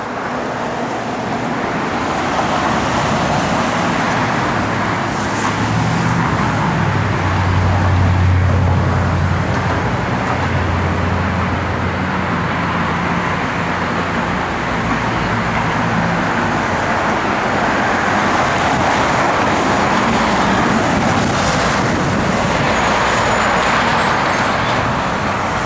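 A 1966 Chevrolet Nova SS with a 283 V8 and electric exhaust dumps, driving with a continuous loud engine rumble and road noise that swells and eases with the throttle.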